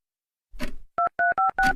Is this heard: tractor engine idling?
no